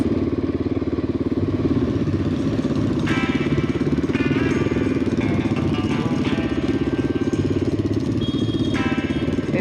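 A Honda XR600R motorcycle engine idles cold on choke, a steady, loud, close single-cylinder thump that runs unbroken throughout, with brief higher clinks and rattles over it.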